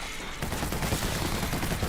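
A fully automatic weapon empties its magazine in a rapid, sustained burst of gunfire in the World War Z video game, loud and close, with dense overlapping shots.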